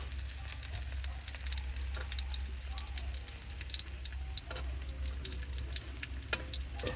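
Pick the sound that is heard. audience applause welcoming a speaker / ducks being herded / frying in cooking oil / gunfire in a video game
frying in cooking oil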